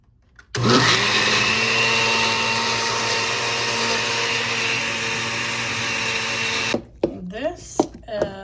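A kitchen blender switches on abruptly and whirs loudly for about six seconds, grinding peppers, garlic and herbs into sofrito, then cuts off and a voice begins speaking.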